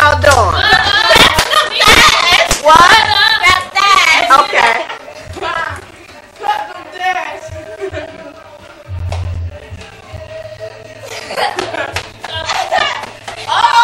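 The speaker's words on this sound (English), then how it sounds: "Daddy clapping them thighs" Family members slap their thighs in a rhythmic clapping game, sharp hand-on-thigh smacks in bursts with children and adults chattering and laughing over them.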